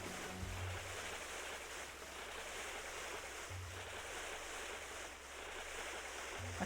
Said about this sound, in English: I can't believe I'm just going swimming in my clothes.